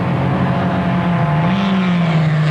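Formula Vee race cars at Amaroo Park in 1987 give a continuous, loud, near engine drone whose pitch rises and falls slightly as they run at speed, with no voices over it.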